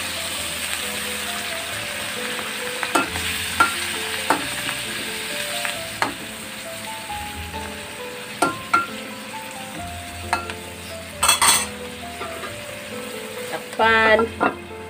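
Eggplant fries in a pan for pinakbet with a steady, close sizzle, broken by occasional knocks and scrapes of a utensil stirring the pan.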